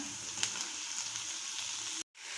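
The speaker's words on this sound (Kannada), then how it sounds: "ಟೊಮ್ಯಾಟೋಸು ಸ್ವಲ್ಪ ಫ್ರೈ ಆಗಬೇಕು." Tomatoes frying with onion, ginger-garlic paste and turmeric in a pan for tomato rice, a steady close sizzle with a few faint scrapes, cut off by a brief dropout near the end.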